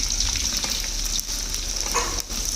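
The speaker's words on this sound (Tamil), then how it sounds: "நல்லா வதங்கணும் இல்லையா செல்வி?" Sliced onions sizzle and fry steadily in hot oil for biryani, a dense continuous crackle with faint stirring scrapes, close and fairly loud with no talk.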